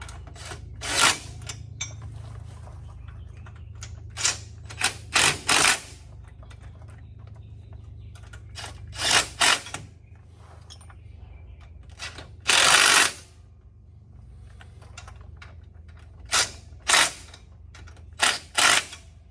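Intermittent ratcheting bursts while snugging four bolts on a Honda Foreman 500 ATV axle, short sharp clicking runs separated by quiet pauses, close to the mic.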